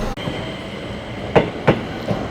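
Train at Takaosanguchi station at the foot of Mt. Takao, a steady rolling rumble with a few rhythmic clacks of wheels over rail joints, fairly close and continuous.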